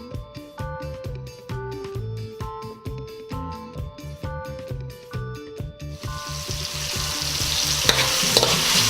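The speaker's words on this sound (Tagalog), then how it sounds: "Tapos hahalo-haluin nyo lang po hanggang sa maluto yung ating kamatis." Tomatoes cooking and being stirred in a pan for misua with sardines, a steady sizzle with repeated scraping stirs under background music, the frying hiss growing louder and brighter toward the end.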